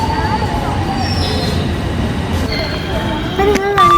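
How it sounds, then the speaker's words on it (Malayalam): A Delhi metro train pulls into a station, its steady low rumble filling the platform, with brief high tones and squeals near the end as it arrives. "മെട്രോ വന്നു"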